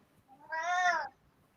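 A cat gives a single drawn-out meow, clear and fairly close, rising and falling over about half a second in a quiet room.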